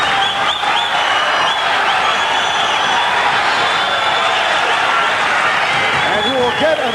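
Boxing crowd at a lightweight bout in London applauding steadily, with whistles rising through a loud, dense wash of clapping and cheering voices from the arena.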